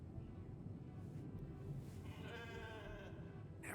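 Sheep bleating inside the video game The Alters, a wavering bleat in the second half over a steady low game ambience and rumble.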